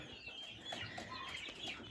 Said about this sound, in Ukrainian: двоє півників сидить в ізоляції